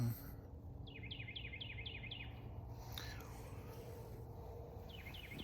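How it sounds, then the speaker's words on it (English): Faint, rapid bird chirps repeat in a quick series, then again later, over a steady outdoor hiss in the woods. "You hear the birds and squirrels and the critters running around."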